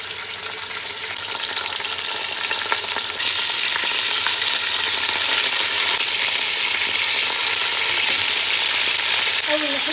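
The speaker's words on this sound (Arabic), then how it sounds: "اول ما احس ان السمنه سخنت كويس هنزل بقى باللحمه بتاعتي" Three kilos of beef frying in hot ghee with a little oil for kebab, a steady, loud, hissing sizzle that carries on unbroken throughout.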